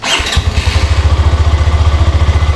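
A Hero Xtreme 125R motorcycle starts with a brief whirr, then its engine and exhaust settle into a loud, close, even idle thump repeating rapidly and steadily.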